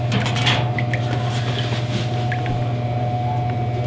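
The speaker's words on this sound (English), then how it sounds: "This is our fancy egg washing machine." A small farm egg washing machine runs with a compressor bubbling air through a sink of water, making a steady close mechanical hum and drone with faint clicks and no talk.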